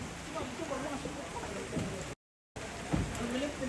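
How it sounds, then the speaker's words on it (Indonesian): Steady rain falls outdoors in Tondon, Toraja, during a ceremonial procession, a dense hiss throughout with a short gap and people talking faintly beneath it. "saat ini sedang hujan"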